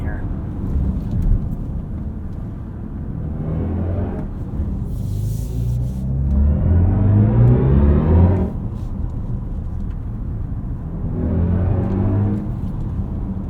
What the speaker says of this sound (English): I will say the iconic sounds do add a lot of drama to the EV driving experience.